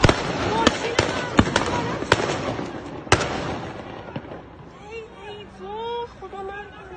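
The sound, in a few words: gunshots fired at street protest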